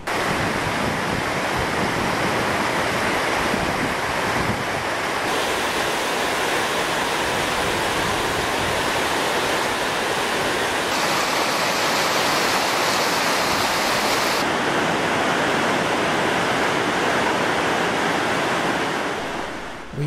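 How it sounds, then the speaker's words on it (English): A creek and waterfall rush through a mountain canyon near Caldron Peak, Alberta, giving a loud, steady, full roar of water that fills the whole stretch with no voices. "We'll soon hike along the creek."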